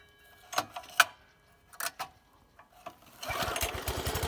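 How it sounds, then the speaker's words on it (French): Cord pulls on an American lawn mower with the choke set, a few sharp rattling tugs before the small engine catches and runs loud and steady to the end. "Tu mets sur starter, tu tires la corde fort."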